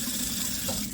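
Water runs from a tap while a damp cleaning sponge is squeezed out beneath it, a continuous close rushing and splashing sound with no speech.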